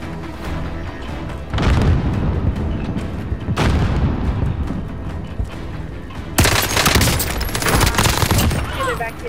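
Bursts of video game gunfire and booming explosions crackle in loud, dense volleys, with heavy shots erupting at intervals over continuous battle noise and talk.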